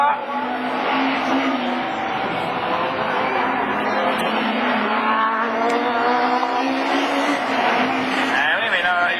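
Rallycross cars, an Audi A3 chasing a Peugeot 306 in a French championship division 4 round at Lessay, roar continuously near and loud with shifting engine pitch, while an excited commentator talks over them throughout.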